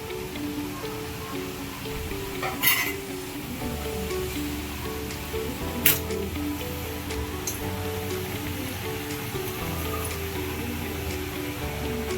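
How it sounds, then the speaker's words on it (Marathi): Spirals of chakli fry in hot oil as they are stirred, giving a steady, soft sizzling crackle broken by a couple of sharp clinks, with background music playing throughout. "चकली तेलात सोडल्यानंतर लगेच हलवायची आहे"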